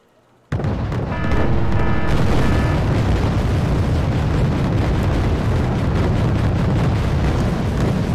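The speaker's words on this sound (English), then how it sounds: "they've suffered an explosion in the ammo room" A ship's ammunition room explodes in Wargame: Red Dragon. A sudden loud blast breaks a quiet moment, followed by a heavy, sustained roar of burning and crackling.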